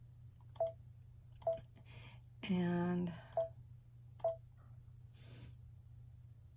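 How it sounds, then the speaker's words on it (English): A handful of sharp key clicks spaced out at an unhurried pace, close and fairly clear, with one brief hum-like tone in the middle. "So we'll just continue typing."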